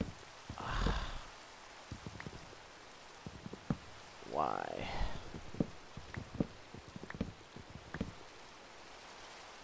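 Scattered droplet taps of rain in a video game, with a short spoken word and louder rustly bursts breaking in between.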